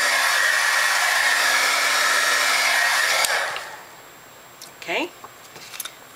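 A heat tool blows steadily and loudly on embossing on a paper snowflake ornament for about three seconds, then cuts off, leaving faint handling noises and light rustles.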